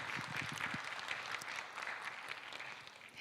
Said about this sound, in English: Please give a round of applause to His Excellency Hendra Susanto